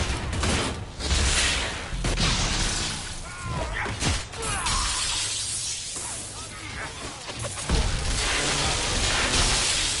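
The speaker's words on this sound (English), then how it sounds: "The Gatlock explodes." A Gatlock explosive going off in Dragon Age Inquisition, a loud crashing, shattering blast with debris clatter filling the stretch amid ongoing battle noise.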